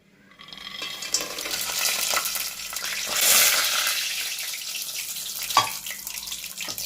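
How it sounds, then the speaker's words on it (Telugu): Tempering spices sizzle steadily in hot oil in a pan, with stirring scrapes and clinks throughout and one sharp metallic knock near the end. Close and fairly loud, with no talking. "ముందుగా తాలింపుకి కావాల్సిన ఐటమ్స్ వేసుకొని ఆయిల్లో వేయించుకుందాం."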